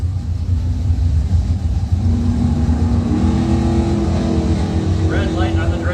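A 1979 Pontiac Phoenix and a dragster run a heads-up round of bracket drag racing, engines roaring loud and steady throughout, with rising revs near the end and a commentator's voice over the noise.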